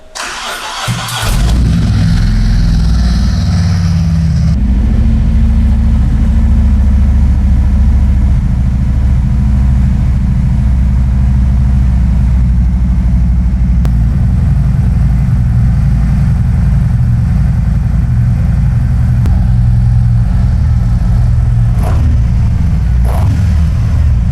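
Harley-Davidson Road Glide with an SNS muffler fires up after a brief starter whir, then settles into a loud, deep, rumbling idle with occasional revs, heard up close and alone for over twenty seconds.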